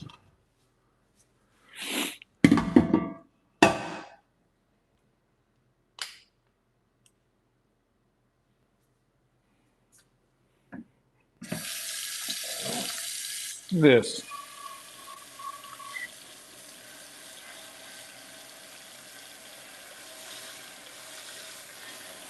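Hot tap water runs steadily from a faucet while a cast iron pan is washed by hand in a home kitchen, a continuous close hiss following a few short bursts of handling and a brief spoken word.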